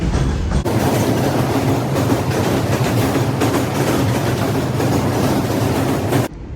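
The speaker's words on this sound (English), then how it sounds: "Pause for the train." A train rumbles past close by, loud and steady with rhythmic clattering of wheels on the rails, then cuts off abruptly near the end.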